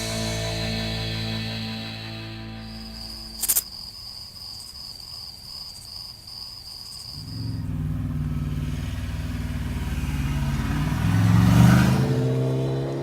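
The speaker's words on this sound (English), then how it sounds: "It's a measurement of how long it takes the bike to accelerate from 60 to 80 miles an hour in 6th gear." A superbike accelerates in sixth gear from 60 to 80 mph during a roll-on test at a racetrack. Insect chirping fills the first half, then a rising engine drone swells in and grows louder toward the end.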